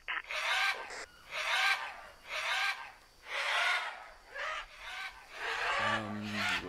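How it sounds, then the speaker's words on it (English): Birds squawking loudly in the jungle survival game Green Hell, in repeated harsh, raspy bursts about a second long with short gaps, and a brief low rumble near the end. "these birds need to calm down"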